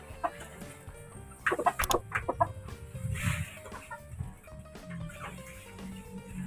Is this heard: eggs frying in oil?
no